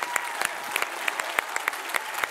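Audience applause at a children's televised singing competition, a steady wash of many hands clapping with sharper individual claps poking through, moderately loud and continuous without talk.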